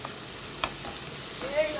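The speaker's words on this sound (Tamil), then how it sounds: "ஒரு ஆனியன் நறுக்கியதை போட்டுக்கலாம் பச்சை மிளகாய் போட்டுக்கலாம் நல்லா வதக்கி கொடுத்துடலாம்" Soft, steady sizzle of onion and garlic sautéing in a pan for masala pasta, with a brief clink of a utensil stirring partway through.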